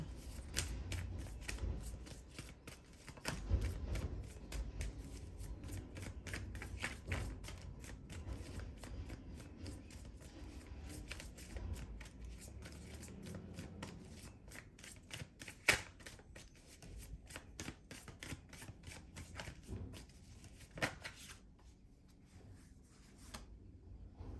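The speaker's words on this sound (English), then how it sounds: "Do a quick shuffle here." Tarot cards are shuffled repeatedly in rapid riffling bursts, crisp and close, with brief pauses between shuffles and no talking.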